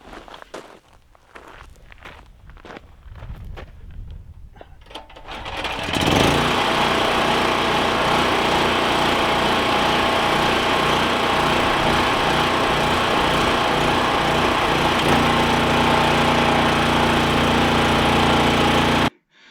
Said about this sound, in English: So now I'm going to start up the generator and hoist up all that muck.